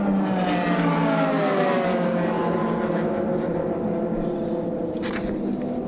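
A Super GT race car entering the pits during the 2006 Fuji 300 km round, a loud steady engine drone whose pitch slides gently downward as it slows, with other cars' engines faintly behind it.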